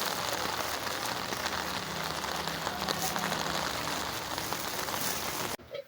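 Heavy rain pours down on a flooded street, a dense, steady hiss of drops hitting water and surfaces close by that continues evenly, then breaks off abruptly near the end.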